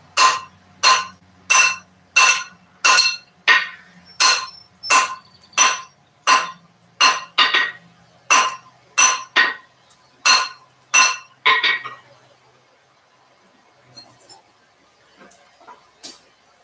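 Hand hammer forging a 1-inch round stainless steel bar down on the 45 to eight sides: a steady series of loud, ringing metallic blows at roughly one per second, then a pause with a few lighter taps.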